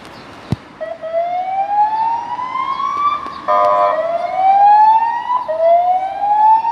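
Police siren wailing in rising and falling sweeps at an accident scene, loud and fairly close, with the pitch dipping and climbing again and a sharp knock early on; no talk over it.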